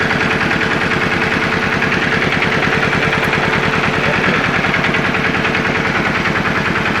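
A repaired motor-tractor engine idles steadily and loudly on its own, a smooth, even low chugging with no other sounds.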